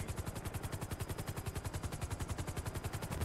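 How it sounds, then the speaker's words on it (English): Fireworks go off in a rapid, evenly spaced string of crackling bangs during a police-roleplay video game near Maze Bank, heard faintly and steadily throughout. "Oh, they're shooting off fireworks."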